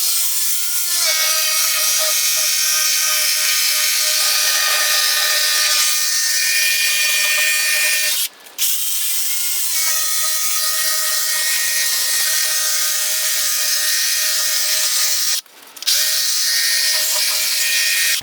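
A car is rinsed clean of a salt-removal solution with a steady, loud spray that hisses with a mechanical whine, breaking off twice for a moment before resuming.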